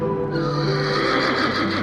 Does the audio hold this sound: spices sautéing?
no